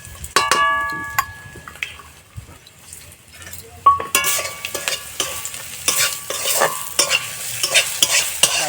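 Crushed bori lentil dumplings fry in oil while a utensil scrapes and stirs the pan in repeated short strokes over a growing sizzle, close-up with clinks against metal and no speech.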